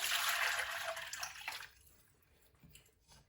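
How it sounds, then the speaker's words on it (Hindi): Water is poured over oranges to wash off their chemical coating. It makes a close, loud gushing splash for about a second and a half, then stops, leaving only faint drips and quiet. "यहाँ पे पानी ऐड करेंगे"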